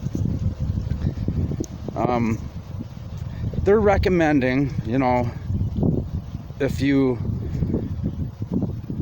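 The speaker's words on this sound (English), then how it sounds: "sorry about the wind, I don't even know if you can hear me that well." Outdoor wind buffets the microphone with a constant low, rough rumble, while someone talks over it throughout.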